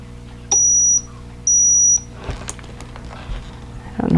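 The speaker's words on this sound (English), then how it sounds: "I don't know why my iron keeps beeping at me" A steam clothes iron at a quilting table gives two steady high-pitched electronic beeps, each about half a second long and clear and close, followed by quiet handling and rustling sounds.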